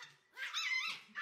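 A dog barks in a few short, close yips and woofs, with a brief pause between bursts and no talking over it.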